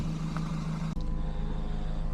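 Steady engine drone and road noise from inside a 2001 Toyota MR2 Spyder on the move with its top down, a continuous low hum at an even level with one brief dip, no talking.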